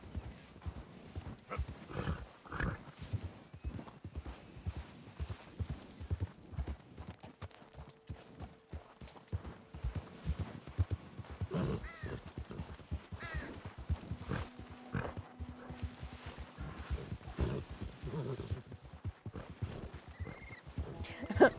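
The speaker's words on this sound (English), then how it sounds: "Average Skyrim horse experience." Horse hooves clop along in a steady walking rhythm in the video game Red Dead Redemption 2, close and fairly quiet, with a few faint grunts and background noises.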